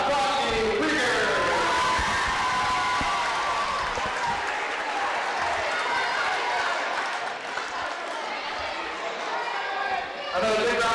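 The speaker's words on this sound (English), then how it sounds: "Another big round of applause for the 5th and 6th grade teams" Loud, sustained applause and crowd noise fill a school gym at a youth basketball game, honoring the 5th and 6th grade teams, with an announcer's voice over the clapping.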